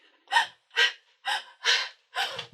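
Panting from an out-of-breath man in a theatre performance: five loud, evenly spaced, harsh gasping breaths, close and separated by brief silences.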